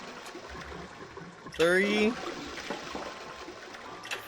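A toilet flushes in the game 9 Hours 9 Persons 9 Doors, a brief gurgling rush lasting about half a second amid quiet room tone, with a person speaking before and after it.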